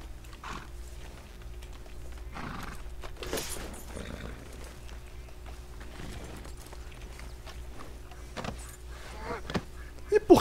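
Heavy draft horses in Red Dead Redemption 2 move around with soft hoof clops, snorts and tack jangling, set under a low steady hum and a voice talking over them.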